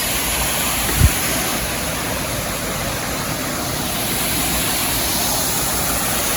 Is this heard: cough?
no